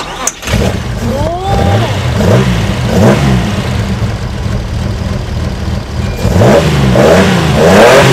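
A Nissan Fairlady Z S30 sports car's 3-litre L-series engine cranks and fires, then revs up and down in several loud rises before settling toward a stable rumbling idle, with a brief voice near the start.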